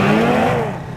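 A Ski-Doo snowmobile engine at full throttle roars loud and close, its whining pitch climbing steadily before easing slightly.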